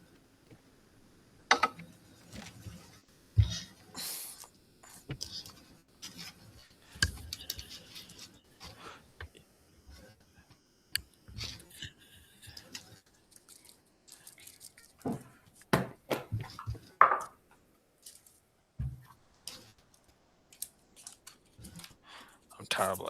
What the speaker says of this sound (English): I'm terrible at shuffling.